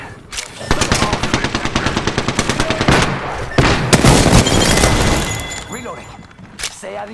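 Gunfire in a shooter video game: a rapid automatic burst of evenly spaced shots, then heavier bangs and a sustained loud roar, with sharp cracks near the end, all close and loud.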